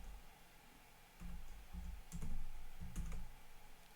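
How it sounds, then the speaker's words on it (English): Fingers tap a computer keyboard in a lecture setting, with soft, muffled keystrokes in short clusters near the middle and end over a quiet room hum, faint and slightly distant. "Oops, only if I can type correctly."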